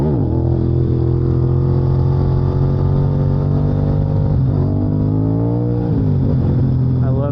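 A motorcycle engine drones loud and close as the rider does wheelies on a hill, with the pitch rising and falling as the throttle swells and eases.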